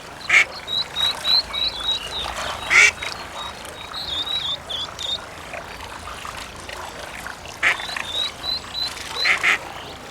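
A mother duck and her ducklings in forest undergrowth and reeds. Irregular bursts of quacking are heard over high, thin repeated peeping, all fairly close and with no voices.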